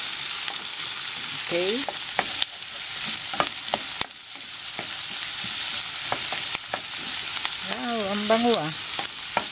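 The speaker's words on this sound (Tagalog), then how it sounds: "hintayin lang natin na medyo malantay yung sibuyas" Onion sautéing in a pan for sardines with spinach, a loud, dense sizzle with bursts of crackling and stirring, while a person talks briefly over it.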